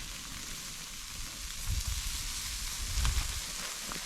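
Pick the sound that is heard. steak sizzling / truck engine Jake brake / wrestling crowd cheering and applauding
steak sizzling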